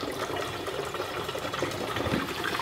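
Acid being poured from a bottle into a 2-gallon sprayer of water, a steady, loud, close gurgling pour of liquid that runs unbroken throughout with no talking.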